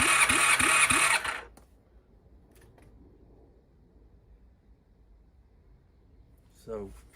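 A Honda VFR400 NC30 motorcycle engine cranks briefly on the starter during a cylinder compression test, a short rapid churning burst followed by near silence, then a faint later sound.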